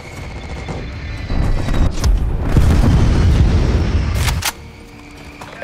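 Strafe run explosions rip across the battlefield in Call of Duty: Black Ops Cold War, a rolling run of loud, close booms and bursts lasting several seconds before cutting off abruptly.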